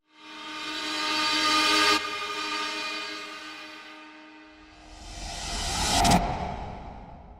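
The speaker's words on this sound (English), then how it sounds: "let's turn the whoosh back on and solo it so we can hear what we can get out of this." A cinematic whoosh sound effect, soloed in the Gravity plugin, rises in two loud swelling sweeps, the second ending in a sharp peak before fading, heard alone without talk.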